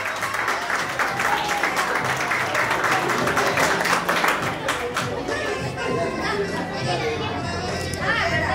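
At a 2022 graduation cap-crossing ceremony, an audience applauds a girl with a burst of clapping that fades after a few seconds into lively chatter of children and adults.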